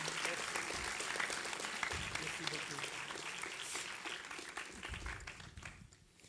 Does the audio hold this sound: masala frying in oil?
no